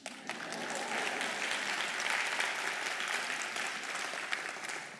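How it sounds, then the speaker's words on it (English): A lecture audience at Parsons School of Design applauds, steady moderately loud clapping that swells quickly and holds evenly throughout. "now you have to applaud."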